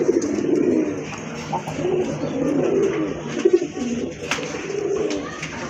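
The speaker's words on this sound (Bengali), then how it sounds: "মাকড়া চোখের কবুতর" Pigeons cooing steadily in soft, rolling low calls, several birds close by with a faint background hum.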